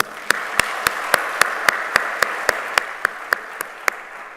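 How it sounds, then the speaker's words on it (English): An audience at a corporate address applauds in a steady round of clapping, fairly close and even, with a few sharp individual claps standing out at regular intervals above the crowd. "Let us take a moment to acknowledge this with a round of applause."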